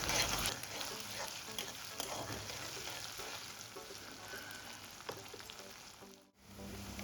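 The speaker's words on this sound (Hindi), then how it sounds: "ता ये स्टेज में हमन में डाल देबो ये अदरक लहसुन के पेस्ट ला। और एला भी एकर साथ में हल्का से भून लेबो।" Ginger garlic paste sizzles and crackles steadily in a hot pan, with occasional stirring scrapes, close and continuous.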